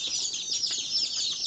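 A batch of newly arrived baby chicks on a homestead peep constantly, a dense, high, overlapping chorus of shrill chirps heard close up without a break.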